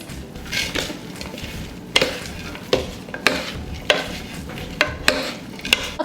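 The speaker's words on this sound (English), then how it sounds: "so now we're gonna go ahead and mix this right in" Salad with red onion and sunflower seeds being stirred and mixed in a bowl, giving a run of soft scraping and tossing rustles punctuated by sharp clinks of a utensil at steady intervals, close and moderately loud.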